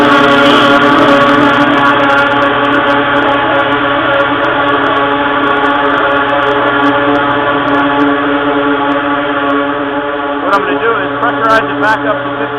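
A bulk delivery truck's blower roars steadily as it pressurizes the tank up to 15 pounds, a loud, continuous mechanical drone with strong tonal harmonics, holding unbroken throughout with a slight shift near the end.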